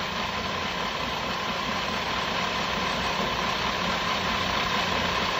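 A machine cuts mild steel on a Lucas distributor shaft, a continuous dense mechanical whir and grinding hum at a steady level throughout, close and loud, with no speech.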